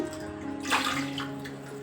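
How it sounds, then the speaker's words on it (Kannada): Water pours into a bowl holding washed rice and moong dal, a near, splashing gush that swells sharply just before the midpoint and then settles into a steadier trickle, with no talk. "ಅದೇ ಬೌಲಲ್ಲಿ ಐದು ಪಟ್ಟ ನೀರು ಹಾಕ್ತಾ ಇದ್ದೀನಿ"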